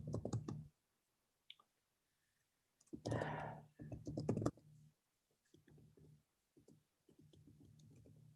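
Computer keyboard typing into an online chat box: quiet, close key clicks in short irregular bursts with pauses between them, and no voices.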